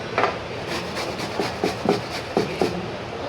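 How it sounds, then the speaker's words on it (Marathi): Peeled raw green bananas are rubbed over a metal grater, giving a steady rasping scrape punctuated by several sharper strokes, moderately close and with no talk. "आपण याला किसून घेऊया"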